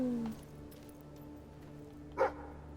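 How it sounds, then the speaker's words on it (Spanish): A dog in the snowy mountains of Fable III gives a single short bark, fairly faint against a low background hum. "El perro está ladrando"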